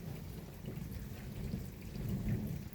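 Rain from a thunderstorm in Montady keeps falling in a steady wash while low thunder rolls faintly in the distance, growing slightly toward the end, with no talking.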